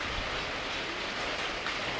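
Steady rain pouring down outdoors on a street during a motorbike delivery run, a dense, even hiss of drops hitting surfaces that stays loud and constant throughout with no talking.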